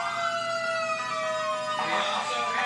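A fire truck siren wails loudly nearby during a parade, its tone sliding steadily, with some traffic rumble underneath.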